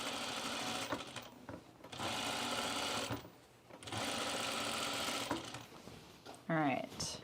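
A sewing machine stitches pants using two-strand thread wound on the bobbin, running in several long sustained bursts separated by short pauses, loud and close, with a brief handling clatter near the end.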